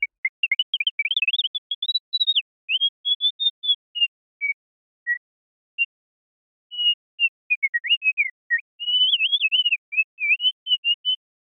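Synthesized bird chirps from a free module in VCV Rack, a sparse series of short, pure, warbling whistle tones that slide up and down, heard alone and clean with gaps of silence between bursts.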